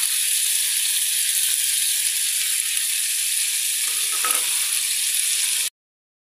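Meat fries in a pan with yogurt, green chili and peanut paste, a loud steady sizzle and hiss close up that cuts off abruptly near the end.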